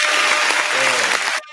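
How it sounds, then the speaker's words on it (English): A live audience claps for a speaker, a loud, dense burst of applause with some voices mixed in, cutting off abruptly near the end. "Give me a little applause"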